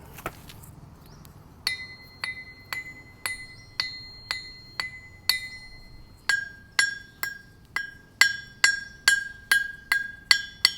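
Hammer strikes on new Zuma anvils, one cast iron and one ductile steel, a steady series of bright ringing metallic clanks, the later set louder and longer-ringing, heard alone with no talk.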